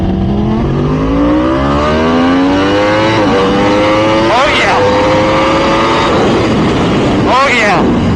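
A Yamaha R1M motorcycle with a 38.2 sprocket runs at full throttle, its engine screaming up through the gears in rising sweeps, with a voice talking over the loud, close roar.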